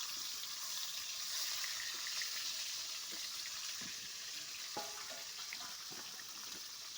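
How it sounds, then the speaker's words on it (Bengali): Pointed gourd and potato fry in oil in a pan with a soft continuous sizzle, broken by light scattered clicks of stirring; no voices. "দেখো পটলগুলো ভাজা হয়"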